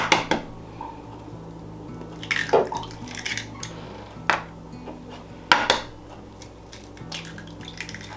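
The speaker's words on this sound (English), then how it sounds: "the first thing is 2 eggs that we're gonna beat here in this bowl" Two eggs are beaten in a mixing bowl with sharp, irregular clinks and taps of a utensil against the bowl, some louder strikes among quieter scraping, close and with no speech.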